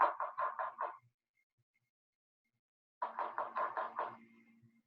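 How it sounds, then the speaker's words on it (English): Knocking on a door, two crisp bursts of about four or five raps each separated by two seconds of silence, close and clear with no talk. "Yeah, a knock on the door."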